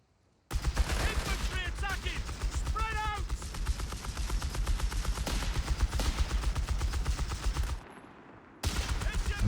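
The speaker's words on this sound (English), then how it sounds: "See if this vet 2 machine gun with the buffed up suppression can stop them before the grenade comes off." Vickers machine gun, a veteran unit with boosted suppression in Company of Heroes 3, fires in steady rapid automatic bursts, loud and close, with battlefield noise and brief voice-like chatter mixed in, then a short pause before firing resumes.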